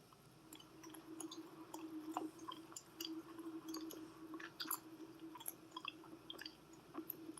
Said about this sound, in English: Ooh, she chewing gum right in the phone.